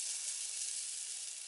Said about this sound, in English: it's starting to sizzle there in the bottom of the pan